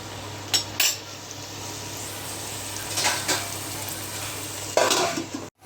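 Onion pieces frying in a pan, a soft continuous sizzle under several louder bursts of stirring and metal utensil scrapes against the pan, close by, ending with a sudden cut to silence.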